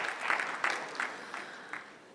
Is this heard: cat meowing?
no